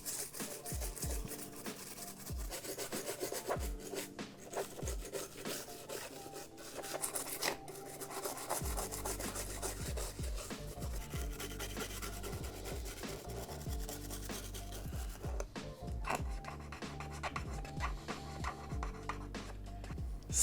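A toothbrush scrubs around and inside the controller ports of a Nintendo 64 console, a soft close rasping rub that keeps going with irregular strokes, quiet and with no talk.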